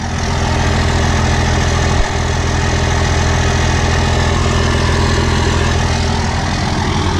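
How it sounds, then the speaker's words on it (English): A diesel truck idling through a 4-inch turbo-back exhaust with an 8-inch axle dump, a loud, steady, deep rumble that holds for several seconds with one brief bump. "4-inch turbo back exhaust to an 8-inch axle dump."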